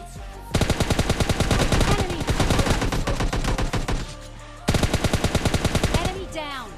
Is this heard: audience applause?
no